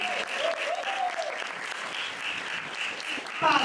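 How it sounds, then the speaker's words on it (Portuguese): Indoor audience applause for Father Jefferson at a vocations discussion gathering, a dense steady patter of clapping hands throughout, with faint voices mixed in. "Aplausos para o Padre"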